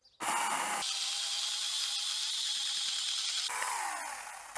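A Revolt cordless mini chainsaw whines at high pitch as it cuts through wood, a close, loud, steady buzz that starts abruptly and shifts tone near the end as the cut finishes.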